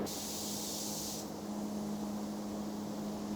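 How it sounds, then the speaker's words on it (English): A spray gun hisses steadily as it applies finish to an electric guitar neck in a workshop, a close continuous spray whose bright edge cuts off partway while a steady hum carries on beneath. "So you figure out your own pattern how you want to spray."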